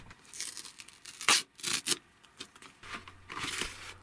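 A small paper envelope torn open up close, with several sharp ripping bursts and crinkles between short pauses.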